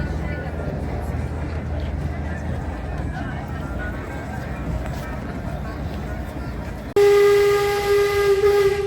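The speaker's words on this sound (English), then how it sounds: "Whistle and wave." A riverboat's steam whistle sounds a loud, sustained farewell blast in Alaska. It cuts in abruptly after a stretch of low rumbling background and voices.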